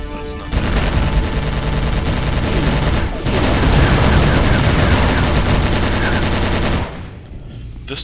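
Rapid machine-gun fire from an MG nest in the game Iron Grip: Warlord, loud and dense, bursting almost continuously for about six seconds with a brief dip partway through, then cutting off.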